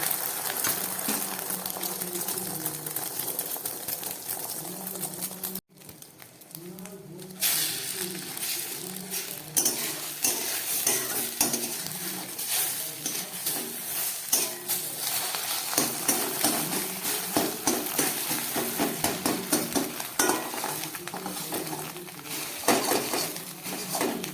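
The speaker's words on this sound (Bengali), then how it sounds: "এই তেলের মধ্যে আমি ডিমের অমলেটটা করে নিলাম" Egg beaten with black pepper powder and salt fries as an omelette in hot oil, giving a steady, fairly loud sizzle that runs throughout, with a few clinks of utensils and a brief drop near the start.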